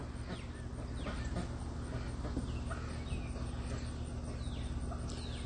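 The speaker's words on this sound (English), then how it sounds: "We've got some ducks roaming around. We've got some turkeys roaming around. Some chickens." Ducks, turkeys and chickens roam outdoors, giving scattered faint clucks and calls over a steady low background hum, with no one talking.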